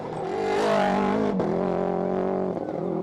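A rally car engine misfiring and running on three cylinders during the Rally of Portugal holds a loud, sustained, rough droning note close by, steady for about three seconds with a brief dip midway.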